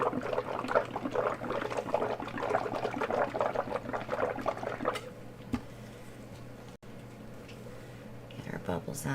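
Water being dumped out of a container during a paint-pouring session, a steady splashing pour for several seconds that then stops, with talking around it.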